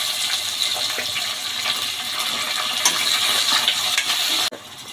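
Green chilies, dried red chilies, curry leaves and onions fry in hot oil for a cauliflower tomato curry, a steady loud hiss and sizzle that cuts off abruptly near the end.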